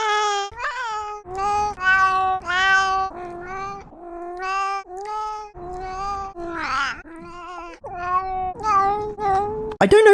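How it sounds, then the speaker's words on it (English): A cat named Ralph meows again and again while exploring a tunnel network, giving a long run of drawn-out, wavering cries that sound sad and wistful, close and clear with short pauses between them. "it recorded loads of his meows"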